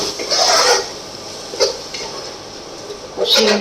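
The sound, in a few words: stirring and frying spice masala in a pan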